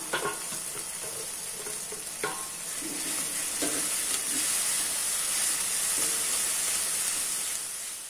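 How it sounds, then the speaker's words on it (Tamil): Mint and coriander sauté with tomatoes in a pan, a soft continuous sizzle and hiss with a few scraping stirs and clinks of a spoon against the pan, no voices present. "இந்த புதினா, கொத்தமல்லி இதுலயே போட்டு வதக்கலாம்."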